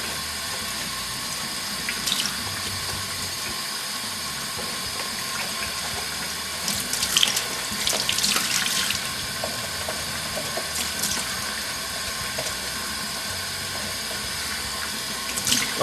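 Tap water runs steadily over a pair of Nitrocharge football boots being rinsed clean, a continuous hiss of splashing flow with a few louder surges and no talk.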